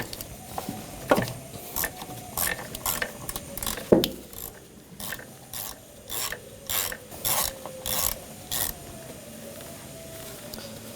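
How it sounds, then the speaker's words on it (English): A 10mm socket ratchet backs out a bolt during intake manifold gasket work on a 2004-2012 Chevrolet Colorado 3.7L, with rapid clicking bursts in repeated strokes up close, separated by short pauses. "Now using a 10mm socket, take this bolt out."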